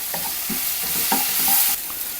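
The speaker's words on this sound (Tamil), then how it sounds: "வெங்காயம் நல்லா வணங்கிட்டுங்க." Onions and garlic for spinach masiyal fry in hot oil in a pan while a spoon stirs them. Steady sizzling runs underneath, with several scraping strokes spaced through it.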